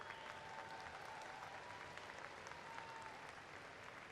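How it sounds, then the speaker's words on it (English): A crowd at the SUNY Erie 2024 commencement ceremony claps for the graduates' families, steady broad applause heard from a distance and sustained throughout. "please give a round of applause to your families for all the work that they did to get you here"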